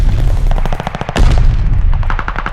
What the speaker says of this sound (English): Allied mortar fire inbound.